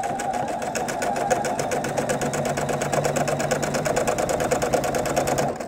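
Sewing machine stitching pieces of a 9-inch quilt block for a crib or toddler-size charity quilt, running steadily and close with a fast rhythmic needle chatter and motor hum for the whole stretch.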